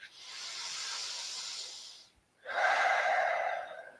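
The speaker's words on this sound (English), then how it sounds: "5 breaths in and out" Deep yoga breathing, close to the mic: one long, airy inhale of about two seconds, a brief pause, then a stronger, hissing exhale of similar length.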